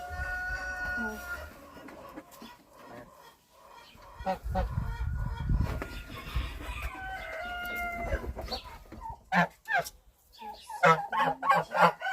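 Domestic geese, a gander among them, honk loudly and repeatedly at close range on a farm, with harsh calls bursting out in irregular clusters between stretches of quieter shuffling.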